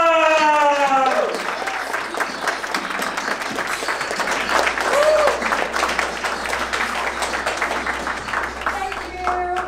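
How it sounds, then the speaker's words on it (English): A standing audience gives the host of a trading seminar a loud, sustained round of applause and clapping, with a few faint voices in the room. "please stand up and give a massive round of applause for your host of the day, Miss Hither"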